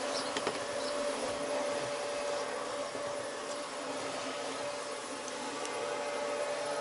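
A vacuum cleaner running at some distance in a workshop setting, a steady whining hum with a constant tone and hiss, unchanging throughout with no speech.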